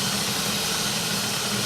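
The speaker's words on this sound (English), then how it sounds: "There's a lot of steam" Steam hisses from a homemade distillation setup for purifying sea or dirty water as poured water cools it; a steady, continuous broadband hiss with a low rumble runs unbroken throughout, with no voices.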